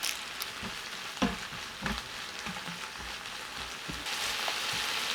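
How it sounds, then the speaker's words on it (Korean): Seasoned beef stir-frying in a hot pan, a constant close sizzle broken by intermittent scraping knocks of a utensil against the pan, growing slightly louder near the end. "달군 팬에 밑간한 소고기를 올려 볶아줍니다."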